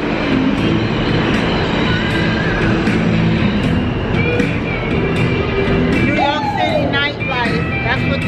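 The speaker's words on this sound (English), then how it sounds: "That's what riding the subway is all about." A New York subway train rides along with steady, loud rumble and rattle of wheels on track throughout, with brief metallic squeals near the end and people talking over it.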